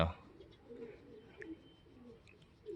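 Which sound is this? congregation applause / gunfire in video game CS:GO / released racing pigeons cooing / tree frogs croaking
released racing pigeons cooing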